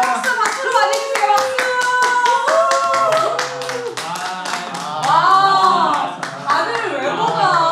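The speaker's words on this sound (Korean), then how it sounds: "박수로 맞이해주세요." An audience claps to welcome a family onto a stage at a church children's service, fast continuous clapping under cheers and a host's voice, with a brief swell near the end.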